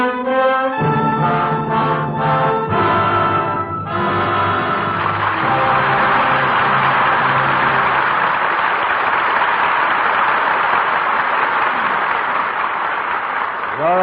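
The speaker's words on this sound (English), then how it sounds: "Your applause gives proper salute to three fine performances." Studio audience applause on a radio drama broadcast, loud sustained clapping swelling over the tail of an orchestral chord and continuing strongly to the end.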